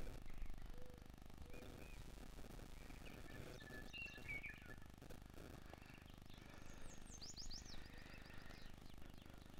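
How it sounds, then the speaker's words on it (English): Songbirds calling outdoors east of a farmhouse in open country, with turtle dove, bobwhite quail and meadowlark; scattered chirps and whistled phrases come through faintly at a distance over steady background noise. "I just wanted you to hear the birds singing and the beauty out here."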